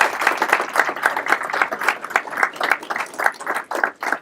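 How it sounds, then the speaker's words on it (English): A seated crowd at a formal ceremony gives a round of applause for a command team, many hands clapping in a rhythmic, even pattern that holds steady at moderate volume without any talking. "give a round of applause to the members of our command team"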